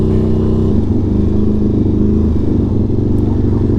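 Indian FTR 1200 motorcycle downshifting, a loud close engine note with a sharp drop in pitch early on, then steady, rumbling revs that rise and fall in brief blips.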